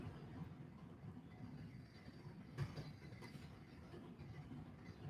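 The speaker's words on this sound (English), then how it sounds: "we have the loud washing machine in the back" A loud washing machine runs in a house, a steady low rumble with a faint rhythmic churn holding through the whole stretch, with no talking over it.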